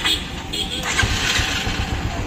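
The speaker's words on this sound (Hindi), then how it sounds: "इसका साउंड देखते हैं। मारो स्टार्ट" A Bajaj Avenger motorcycle engine with a sound problem starts and settles into a steady, loud, close idle, its throb continuous throughout the short stretch.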